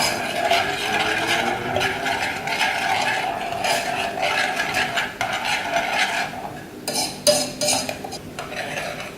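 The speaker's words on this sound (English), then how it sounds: "You want to occasionally stir this so that the bottom doesn't burn." Spice paste for Nyonya asam fish curry fries in a pan while a utensil stirs and scrapes it, giving steady sizzling and rhythmic metallic scraping with a few louder clanks near the end.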